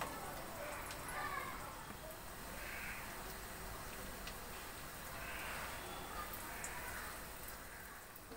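Gima saag vadas dropped into hot white oil to fry, giving a steady, close sizzling crackle throughout with soft bubbling swells.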